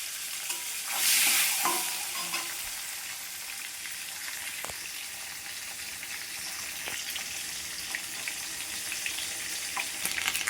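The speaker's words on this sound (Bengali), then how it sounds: "আগে ডিমগুলোকে ভেজে নিই" Eggs fry in a pan with a continuous bright sizzle, briefly louder early on, with occasional stirring clinks and scrapes over the steady hiss.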